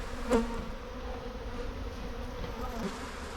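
Honey bees buzz around a hive in a soft, steady drone close by, with a few individual insects briefly louder as they pass.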